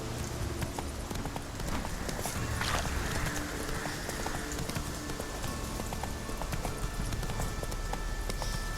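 Roach the horse's hooves clip-clop steadily in The Witcher III, a continuous rhythmic trot of hoofbeats over a constant bed of game ambience.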